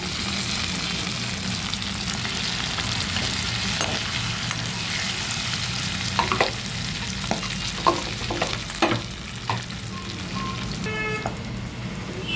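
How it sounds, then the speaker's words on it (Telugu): Onions and curry leaves crackle and sizzle in hot oil in a pan during a cauliflower fry, a dense steady frying hiss with a few sharper pops and spoon stirs toward the end. "ఉల్లిగడ్డ వేగిందండి కరేపాకు వేస్తున్నానండి"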